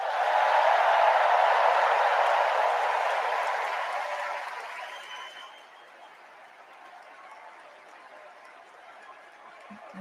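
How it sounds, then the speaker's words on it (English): Sustained crowd applause and cheering for First Lady Jill Biden at the 2024 Democratic National Convention, loud at first then fading away over several seconds. "Let's give a special round of applause to our First Lady,"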